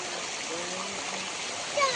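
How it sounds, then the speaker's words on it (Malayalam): Water from a small stream runs gently down a hillside at Kadangode hill near Erumapetty in Thrissur, giving a steady, moderately loud wash and splash that continues unbroken for the whole moment. "നല്ല ഭംഗിയിൽ വെള്ളം മെല്ലെ മെല്ലെ ഒഴുകി പോവാണ് കേട്ടോ"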